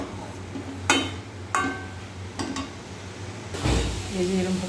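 Papaya being stirred in a metal pan, with several sharp clinks of the utensil against the pan spaced about a second apart over a low background hum, while someone talks.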